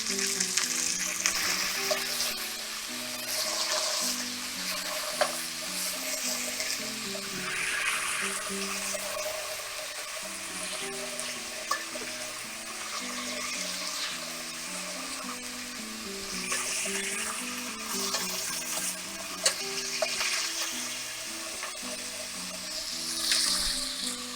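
Beef rouladen rolls browning in a hot pan for German rouladen, a loud continuous sizzle and crackle with occasional utensil clicks throughout, no talking.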